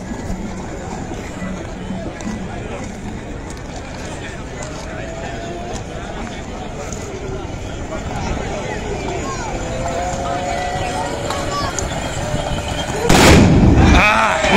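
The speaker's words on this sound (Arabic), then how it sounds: "انه غادي يعاود طلقه" Tbourida horsemen at a Moroccan festival fire a musket volley, a loud sudden blast near the end following a long stretch of crowd noise and commentary.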